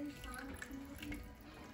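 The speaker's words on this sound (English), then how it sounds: "And then I'm going to add in some more water" Water pours into a pan of simmering flatbread sauce, a faint, steady trickling splash running through the whole short moment, quiet and close.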